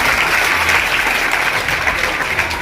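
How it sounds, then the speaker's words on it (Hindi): Brief, steady clapping from an audience of young people at a motivational talk given by a police officer, with a dense, even round of applause that lasts a couple of seconds. "तो ताली बजाते रहना है।"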